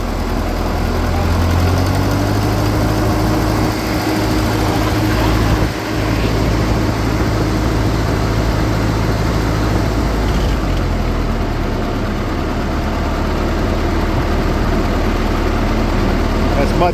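A Ferguson tractor engine idles through a newly fitted muffler exhaust, a loud steady low rumble with even throbbing pulses throughout, while people talk over it.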